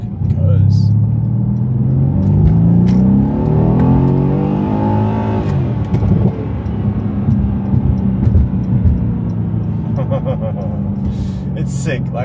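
A Mercedes C63S AMG with a twin-turbo V8 pulls hard from first gear, its engine pitch climbing in a loud, close, sustained rev before it eases off into a rumbling cruise, with voices talking over it.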